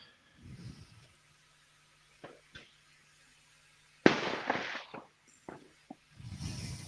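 Distant fireworks outdoors, with a few isolated faint pops, then a sharper crackling burst and some scattered bangs, all quiet against a still background.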